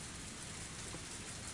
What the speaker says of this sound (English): the water from the downpour was splashing down from the streetlight's overhang like a waterfall